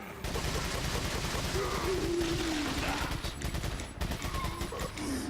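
TMP submachine gun in the video game Resident Evil 4 fires in rapid continuous bursts, dense and crackling, with brief gaps, over faint game background sounds.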